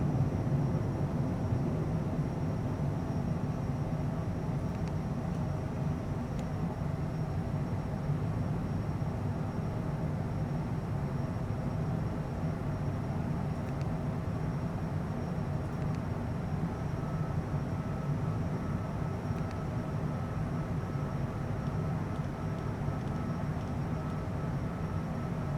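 Cessna Citation Bravo jet climbing just after takeoff, heard from the cockpit as a constant broadband roar and steady hiss of engines and airflow, with no distinct changes throughout.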